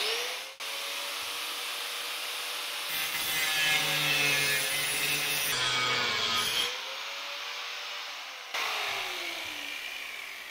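A power tool cuts into a plaster restoration hand tool at close range, making a harsh grinding, sawing whine that shifts in pitch and strains through the cut, with no talk.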